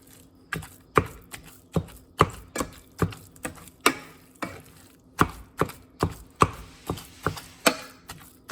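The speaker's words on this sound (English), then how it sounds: "I gotta keep on doing this with the meat chomper. And it's starting to get brown some." A meat chopper strikes ground meat browning in a frying pan on a stove, giving a steady run of sharp, close taps about two per second, with a faint sizzle rising underneath toward the end.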